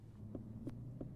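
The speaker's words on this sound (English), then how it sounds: "Do you hear that blinker?" Turn signal of an Aston Martin DBS Superleggera cabin, three soft, dull, evenly spaced thumps over a steady low hum, quiet and close, with no talking.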